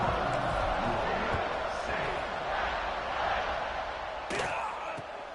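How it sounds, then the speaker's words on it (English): Stadium crowd at a football game buzzing steadily through a kickoff, a loud broad roar with a sharp thump near the end, under a play-by-play commentator's voice. "this crowd is buzzing after that last score"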